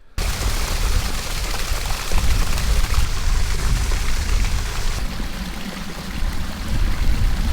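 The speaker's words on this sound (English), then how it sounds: "Made up top to the waterfall here." Waterfall on the Berkeley River in the Kimberley, Western Australia, pouring into clear rock pools, a steady broadband rush of falling water that stays loud and continuous throughout, with no voices.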